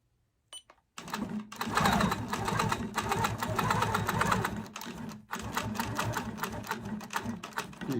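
A sewing machine stitches over quilt applique on a quilting frame, running in a fast, steady mechanical chatter with a brief pause partway through, close and fairly quiet.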